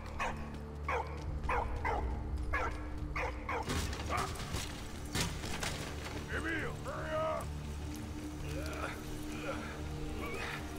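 A dog barking in the Valiant Hearts: The Great War video game, several short yaps at first and then more scattered barks over busy game sounds and music.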